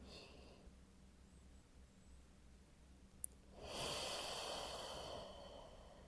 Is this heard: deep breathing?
yes